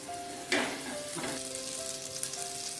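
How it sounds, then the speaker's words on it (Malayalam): Butter sizzling in a pan as a garnish is prepared for beef mandi, a soft, steady crackle with a couple of louder spatters, close by and without voices. "അപ്പോൾ അതിന് വേണ്ടത് ഇത്തിരി ബട്ടർ നമുക്ക് ഇടുക അതിലേക്ക്."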